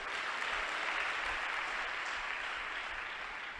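A church congregation claps along during a sermon at a Guntur prayer ministry. The applause is steady and fairly faint, a continuous wash of many hands from a distance with no voices over it.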